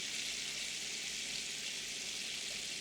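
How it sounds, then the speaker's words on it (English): A steak sears in a hot pan, giving off a steady, bright sizzle that stays close and constant without any voices. "Hear that sizzling?"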